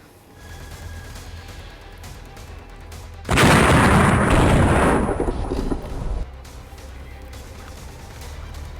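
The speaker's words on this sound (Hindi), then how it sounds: "धमाके की आवाज सुनिए आप" A loud explosion erupts suddenly, followed by a roaring, rumbling blast lasting several seconds before cutting off to quieter background noise, from a Pakistani military post being destroyed at the India-Pakistan border.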